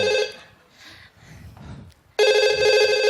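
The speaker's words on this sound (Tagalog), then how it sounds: "Nagre-ring. Sagutin mo na kasi." A telephone rings during a call-center skit on a television variety show stage. One loud, close ring burst cuts off, a quieter stretch follows, then a second sustained ring starts.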